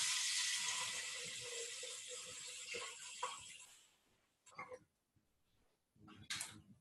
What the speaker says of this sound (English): I'm adding 6 cups of filtered water.